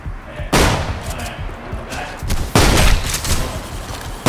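Shotgun blasts in a video game, two heavy booming shots about two seconds apart, each with a rumbling tail, close and loud over game noise.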